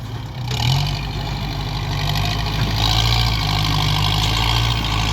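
A Kubota L5018 farm tractor's diesel engine runs at idle close by, a steady low rumble with a slight rise in revs early on, continuing evenly without talk.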